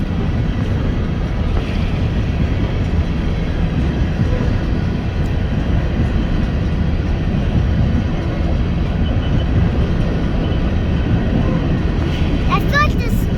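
A BNSF freight train with a CN distributed power unit rolls past at Palmer Lake, Colorado, as a loud, steady rumble and rail roar that lasts throughout, with people talking faintly over it.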